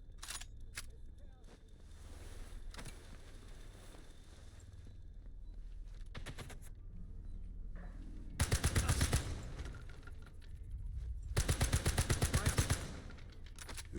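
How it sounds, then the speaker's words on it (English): Submachine gun fire in a World War II shooter video game, two loud sustained bursts of rapid automatic shots cutting through quieter background rumble and distant game sounds. "This SMG could do some damage."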